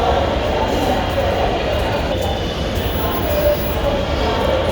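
A metro rail train arrives at a station platform with a continuous loud rumbling roar that stays even throughout, with no pauses.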